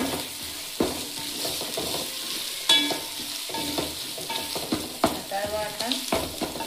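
Mint and coriander leaves frying in a pan with paste and onions, a continuous crackling sizzle broken by periodic spoon scrapes and clinks against the pan, close and alone without talk.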